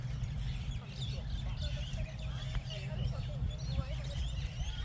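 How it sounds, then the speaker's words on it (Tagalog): A flock of ducks quacking among many birds in New Zealand countryside near persimmon trees, scattered calls at moderate distance over a constant low rumble, with people talking faintly. "Daming ibon"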